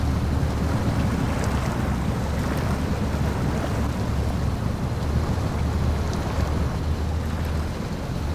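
A truck ploughing through water in SnowRunner, Black River, giving a continuous loud rush and churn of splashing water over a low engine drone throughout, with no voices.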